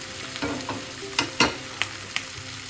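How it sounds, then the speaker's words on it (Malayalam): Potato is stirred into softened, sautéed onions in a pan for a potato mezhukkupuratti stir-fry: a few sharp spatula scrapes and clacks over a faint, steady sizzle, close up, with no talking. "ഈ സമയം നമുക്ക് പൊട്ടറ്റോ ചേർക്കാം ഉരുളക്കിഴങ്ങ് ചേർത്തിളക്കാം"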